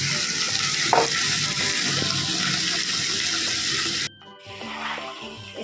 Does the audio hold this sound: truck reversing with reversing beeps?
no